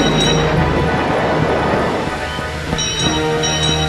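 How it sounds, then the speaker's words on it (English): A train's bell rings close by, loud and continuous, with bright sustained tones over heavy rumbling noise, alone without voices. "That sounds like a bell. And it sounds like it's close by."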